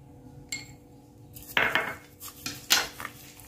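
A utensil clinks and scrapes against a bowl while beef marinade with black pepper and minced onion is mixed, several close, bright metallic knocks and rattles in quick bursts with no talk.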